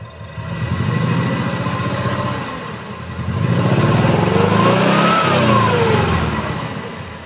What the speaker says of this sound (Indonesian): Coba sedikit saya naikkan RPM, saya geber ada suara janggal apa enggak.